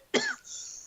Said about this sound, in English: Coughing.